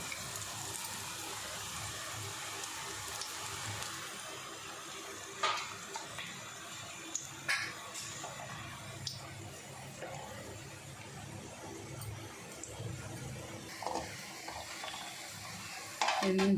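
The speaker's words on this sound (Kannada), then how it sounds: "ಚೆನ್ನಾಗಿ ಈರುಳ್ಳಿ ಬೇಯಬೇಕು ಆ ಥರ ಮೀಡಿಯಮ್ ಫ್ಲೇಮಲ್ಲೇ ನೀವು ಇಟ್ಕೊಂಡು ಬಜ್ಜಿ ಕರಿಬೇಕು" Onion bajji fritters frying in hot oil over a medium flame, a steady bubbling sizzle running throughout with occasional soft clicks and stirring knocks.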